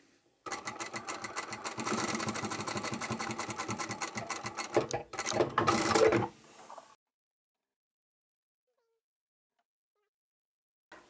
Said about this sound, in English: I'm going to sew straight down there